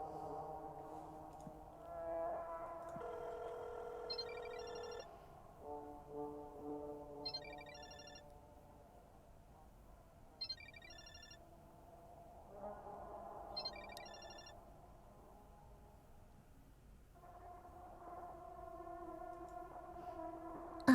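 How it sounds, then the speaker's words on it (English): A phone ringtone inside the video game Parasocial repeats in short chirping bursts at a steady interval, faint and distant over a soft, sustained musical drone. "Asuka's ringtone? It's coming from the balcony?"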